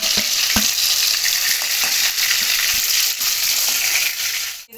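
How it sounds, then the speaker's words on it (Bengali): Small chela fish fry in hot oil with a loud, continuous close-up sizzle and crackle, steady throughout with faint pops. "আর মাছটা ভেজে নেব"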